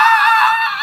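A man imitates a scream with a single loud, high, sustained shriek lasting under a second, close and alone.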